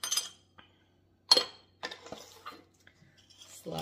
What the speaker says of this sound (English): Slide those things aside and give it a stir.